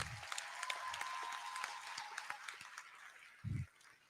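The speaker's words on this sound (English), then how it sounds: "Can we give ourselves a round of applause too?" Audience at an induction ceremony for newly qualified medical and dental practitioners applauding themselves, with a faint, distant smattering of claps and a couple of low thumps.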